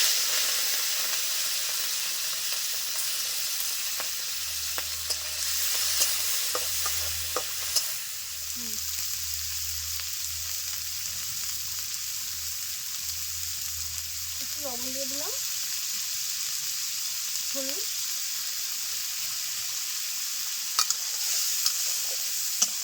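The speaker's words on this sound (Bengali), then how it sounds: "দুশো গ্রাম চিংড়ি মাছ নিয়ে এসেছিলাম ভালো করে কেটে ধুয়ে রেখেছি গরম তেলের উপর দিয়ে দিচ্ছি" Two hundred grams of cut, washed prawns fry in hot oil for a Bengali traditional dish, giving a steady, bright sizzle with a few soft stirring clatters and scrapes throughout.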